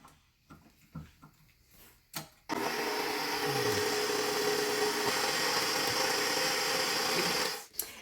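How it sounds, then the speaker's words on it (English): A stand mixer kicks on at its slowest stir speed for a muffin batter with streusel topping, a steady loud motor whir holding for about five seconds after a few quiet clicks and knocks, then cutting off. "we're starting with the slowest on the stand mixer, which is number 1, stir"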